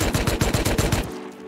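An AK rifle fires in the survival video game Rust as a rapid automatic burst of about nine loud, evenly spaced shots, close and harsh, ending in a brief fading tail.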